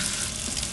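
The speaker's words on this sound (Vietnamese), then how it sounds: "Rửa qua thôi nha, rửa qua phần tôi nha" Running water pours steadily over a crab being rinsed, making a dense, close, continuous splashing hiss without pauses or speech.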